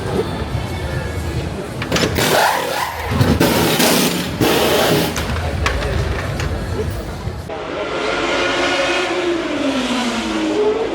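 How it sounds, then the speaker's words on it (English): Classic Formula One cars lapping the circuit at the Belgian Grand Prix, a continuous roaring engine drone with rising and falling passes, heard from the trackside crowd area amid background chatter. "The noise that you hear in the background are the classic Formula One cars from the yesteryears doing their round around the track"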